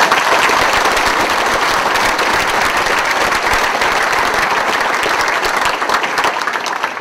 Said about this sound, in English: And a round of applause for you guys.